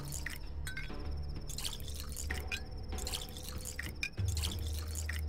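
Water filling bottles in the video game Pathologic, heard as a steady liquid flow with scattered drips and glassy clinks, close and continuous, with a low rumble underneath.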